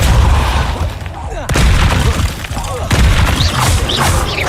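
Confringo fire spells exploding in Hogwarts Legacy on PS4 Pro: loud, heavy booms with crackling blasts in quick succession and sharp hits between them over a dense, rumbling battle din.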